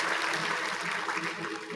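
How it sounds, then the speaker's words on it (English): Applause for a new guest on a talk show fills the whole moment: steady, dense clapping from a small audience, fairly loud and continuous throughout. "Round of applause."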